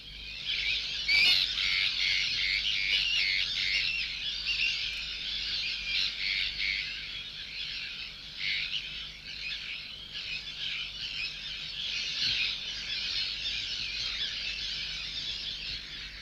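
A breeding colony of sandwich terns on the British coast, a dense, continuous chorus of harsh grating squawks and calls, many birds calling at once, steady and fairly close throughout with no voices.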